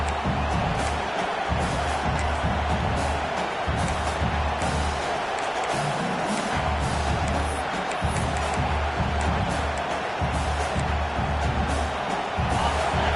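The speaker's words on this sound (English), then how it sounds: "Listen to the crowd energy here in the early going." A steady, loud roar from a large stadium crowd, continuous and unbroken for the whole stretch.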